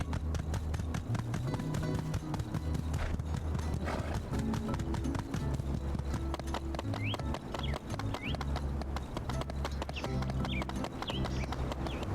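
Hoofbeats of a ridden horse galloping in the video game My Time at Sandrock, a fast continuous clip-clop rhythm under game music, with occasional whinnies.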